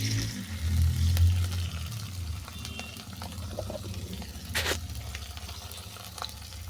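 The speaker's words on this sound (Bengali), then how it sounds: "তেল গরম হয়ে যাওয়ার পর চিংড়ি মাছটাকে দিয়ে দিলাম" Shrimp hitting hot mustard oil in a kadai, a strong steady sizzle and crackle with occasional stirring clinks, close and continuous with no talking.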